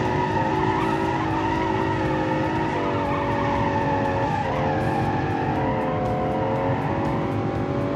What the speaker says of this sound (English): area, you have to drift. That's the only way to turn. 7th speed drift.